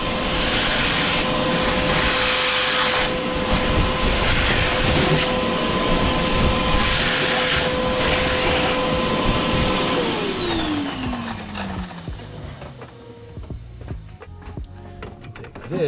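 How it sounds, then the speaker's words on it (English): A vacuum sucks contaminants out of the engine area during an at-home oil change on an Audi Q7, giving a steady, loud motor whine that winds down in pitch and fades once it is switched off. "Now this contaminant's in there, so we're going to vacuum it out."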